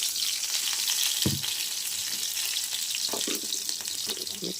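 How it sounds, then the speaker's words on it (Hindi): Cumin seeds sizzle in hot oil while a green pea dal is being prepared. The frying hiss is bright, steady and close, with a few soft knocks from stirring and no voices. "अब यहाँ जीरा डाल दिया"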